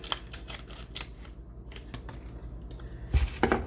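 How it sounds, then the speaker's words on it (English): Scissors snip and click in a series of short, crisp cuts spread unevenly across the clip, with a louder clatter of handling near the end, close to the microphone and with no talking. "Let me get the scissors first."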